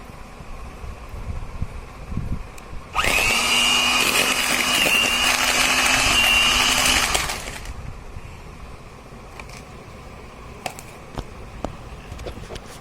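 An electric mixer beats butter and sugar for a coconut rava cake, a loud steady whir that runs for about four seconds before stopping, with quieter kitchen sounds on either side and no speech.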